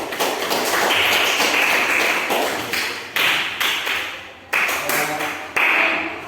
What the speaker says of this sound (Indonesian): Mari kita berikan tepuk tangan untuk kalian semua